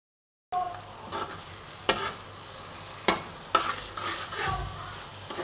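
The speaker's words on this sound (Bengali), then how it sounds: "এবার মশলাটা আমি ভালো করে কষে নেব।" Spice paste for a fish curry being fried and stirred in a pan, with steady close sizzling broken by several sharp scrapes and clacks of a spoon against the pan.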